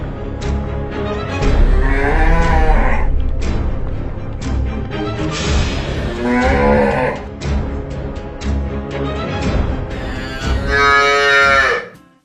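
Repeated loud cow moos from a cow near a farm wedding ceremony wall, three or four long bellowing calls in a row, close by and unaccompanied by talk.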